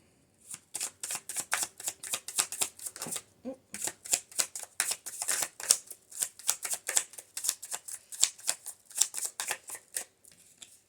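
Repeated rapid riffle-shuffles of a new tarot card deck, a steady rhythm of crisp, close papery bursts running continuously with only a brief pause.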